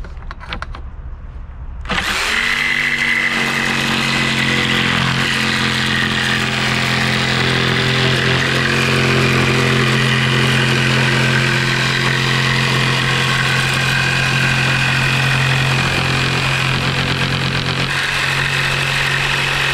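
A small fine power saw cuts wood inside a narrowboat, starting abruptly after two seconds into a loud, steady whining drone that holds close and constant to the end.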